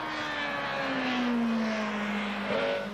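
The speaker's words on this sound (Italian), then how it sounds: "il motore spinge fino agli 8300 giri, senza buchi e in rapida progressione" Audi A4 race car engine climbing in pitch as it revs hard toward 8300 rpm, a single rising whine that drops briefly then surges again, heard from a moderate distance.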